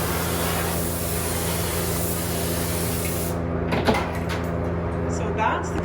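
Lacquer sprayed onto a wooden furniture piece for a flat finish: a loud, continuous close hiss for about three seconds that cuts off abruptly, followed by a few light knocks and handling sounds.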